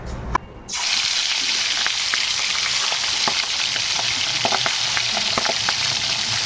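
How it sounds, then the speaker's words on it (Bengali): Pieces of catla fish dropped into hot oil, which bursts into a loud, steady sizzle right after a brief clatter and stays close and dense throughout, with small pops and crackles on top and no talking. "এবারে আমি তেলটাকে গরম বসিয়ে দিয়েছিলাম। তো আমি এবারে মাছটা এখানে এক এক করে একটা একটা করে দিয়ে দেবো।"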